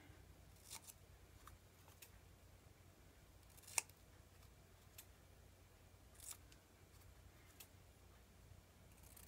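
Scissors snipping out paper letters for an art journal page, a few faint, separate sharp clicks spaced across a quiet, hushed background.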